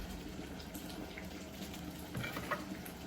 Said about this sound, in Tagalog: So, atin mo hugasan itong ating, ayan, atin mo lang pilian itong ating pechay.